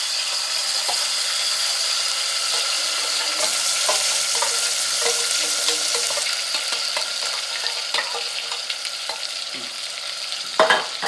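Tomato puree with whole spices frying in a pan for Hyderabadi chicken, a steady loud sizzle with soft scraping stirs throughout and a brief clatter near the end, close up with no talk.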